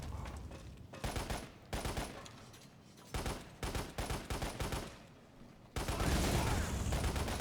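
Machine gun fire from the video game Lost Planet comes in short rapid bursts separated by pauses, then swells into a sustained heavy barrage near the end.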